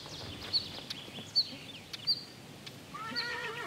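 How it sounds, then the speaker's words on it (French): Przewalski's horses neigh in the open, a few short whinnies rising over a steady outdoor background, with birds chirping and a faint wavering call near the end. "Les chevaux de Przewalski ne se sont jamais laissés domestiquer."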